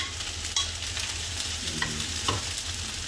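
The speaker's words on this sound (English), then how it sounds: "So stir fry until fluffy." Egg fried rice being stir-fried in a wok, with a steady broad sizzle under scattered scraping and tossing clatters of the spatula, a few sharper knocks standing out, no talking.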